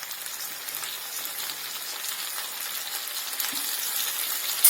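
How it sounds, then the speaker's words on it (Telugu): Curry leaves and turmeric frying in oil, a continuous crackling sizzle, close and fairly loud, rising slightly toward the end, with no talking. "ఈ కరివేపాకు అన్నీ ఒకేసారి వేగుతూ ఉంటాయి అన్నమాట నూనెలో"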